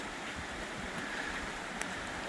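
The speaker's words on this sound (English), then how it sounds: "it looks like we're at another river crossing" The North Fork of the Trinity River flows past a trail crossing in the Trinity Alps Wilderness, making a steady, continuous broadband rush of moving water that stays even throughout with no voices.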